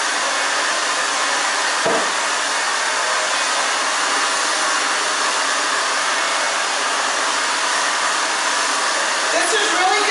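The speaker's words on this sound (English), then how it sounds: "go back and forth with the brush as you blow dry" Hair dryer blowing continuously at close range while a wet brush works back and forth through fine, thin hair, a loud steady roar lasting the whole time with only brief handling bumps.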